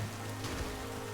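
Rain falls in the Pokemon Violet video game, a steady close hiss of rainfall that continues evenly over a low background hum.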